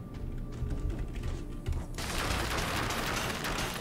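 A cannon in the video game Dead Cells fires over and over in a dense, rapid barrage of loud bursts, growing busier and brighter partway through, with no talking.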